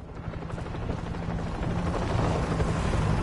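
Helicopter in the zombie shooter World War Z, set in New York, with a dense rotor roar and fast chopping pulses that grow louder and nearer across the clip.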